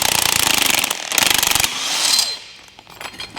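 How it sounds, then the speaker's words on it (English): An impact-style socket tool hammers rapidly while winding off suspension spring bolts on a Kia Ceed, loud and close in sharp rattling bursts, then tapers into lighter mechanical clatter. "I can get a socket on this. So just wind them off"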